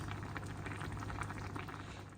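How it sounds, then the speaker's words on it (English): Pot of risotto rice with chicken, bacon lardons and water bubbling on the stove, a soft steady simmer of small pops and gurgles, faint and close. "it's all kind of bubbling away nicely"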